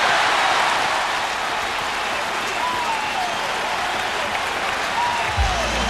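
Large stadium crowd applauding at Shea Stadium during Game 4 of the 2000 World Series between the Yankees and Mets, a dense, steady roar of clapping and cheering sustained throughout, with a low thump near the end.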